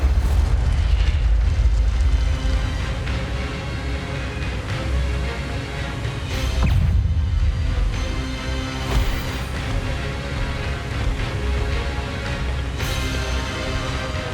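The Incendio fire spell cast during Hogwarts Legacy combat bursts as a deep rumbling roar of flame, with heavy booming low end that surges twice and continues under a dense layer of game music and effects.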